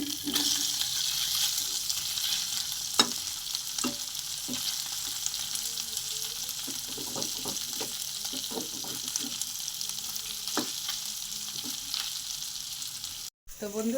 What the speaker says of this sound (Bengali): মাছটা আমি ভাজতে বসিয়ে দিয়েছি